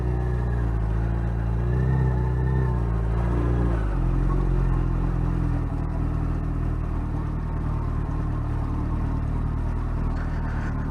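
A motorcycle engine on its first ride after restoration runs with a steady close rumbling drone, its pitch rising and dipping briefly as the throttle shifts, with no talk over it.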